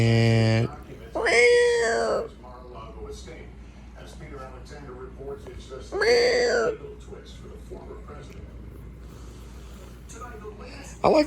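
A domestic cat meows in a few drawn-out, rising calls spaced several seconds apart, close and clear against a quiet room, with a brief sound at the very end.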